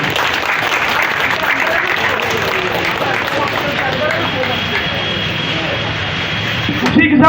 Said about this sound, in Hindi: तो तालियों का आवाज भी जोरदार होना चाहिए।